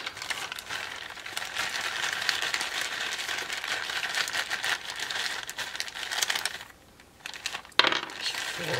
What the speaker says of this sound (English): Looks like we've got the new dice.